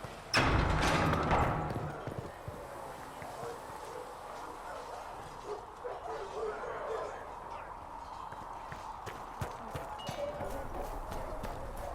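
Hooves clip-clop steadily on hard ground, a horse trotting at a mid distance in the video game Dragon Age: Inquisition, with a voice talking over the hoofbeats.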